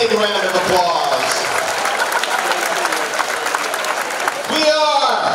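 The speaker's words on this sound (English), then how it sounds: "Let's give them a big round of applause." A school convocation audience at MVHS gives a big round of applause that runs steadily through the clip, with crowd voices and cheers mixed in and a speaker's voice near the end.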